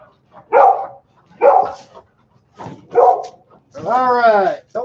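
A dog barks several times in a row, sharp loud woofs spaced about a second apart, the last one drawn out into a longer yelping howl, close to the microphone.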